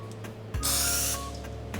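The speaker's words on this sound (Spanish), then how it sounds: "con el cuchillo nos vamos a ayudar con un poquito del aceite en aerosol" Aerosol cooking oil hisses from a can onto a kitchen knife in one short close spray burst lasting about half a second, over a steady background hum while making homemade Christmas turrón.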